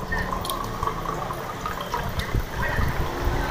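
Water is poured and trickles into a container in a home kitchen, a continuous splashing fill close by, with faint voices in the room.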